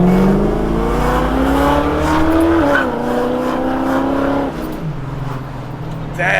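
A V8 car engine revs loudly and continuously, pitch climbing and dropping through gear changes, with a brief tire-like squeal in the middle.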